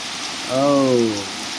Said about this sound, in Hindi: ज़्यादा तेज बारिश लगी है दोस्तों